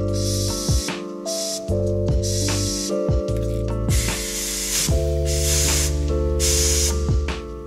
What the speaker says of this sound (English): turn on the ignition and blow about 10 PSI into this hose right here